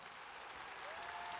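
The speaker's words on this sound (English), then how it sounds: "They deserve all the applause." Crowd of basketball fans applauding at a homecoming event for a women's college team, a continuous, distant wash of clapping with a brief whistle rising through it.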